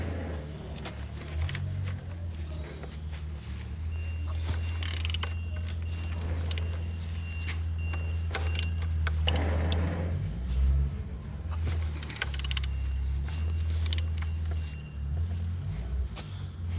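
An aircraft engine registered LO08BHA is turned over slowly by hand, giving steady low mechanical rumbling with faint clicks and ratcheting through the compression strokes, close and continuous with no talk.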